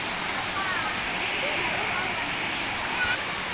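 Thirumoorthy waterfall pouring down hard near a cave-like rock spot, a steady broadband rush of falling water filling the whole scene at close range, with faint voices mixed into the roar.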